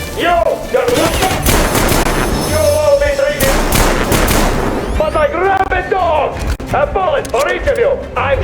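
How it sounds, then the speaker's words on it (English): Dense, loud gunfire in the post-apocalyptic shooter Metro Exodus: rapid machine-gun bursts and overlapping shots with booming impacts, under shouted voices and a tense musical score throughout. "Fire at will!"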